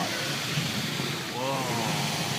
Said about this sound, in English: Here comes the water. Whoa, look at that water.